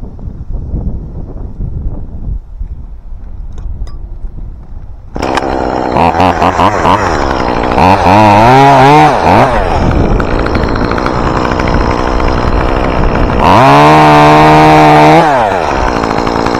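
A chainsaw cuts into a dead tree outdoors in gusty autumn wind. The engine is quiet at first, then roars loud and close, revving and bogging in waves with a second hard surge near the end.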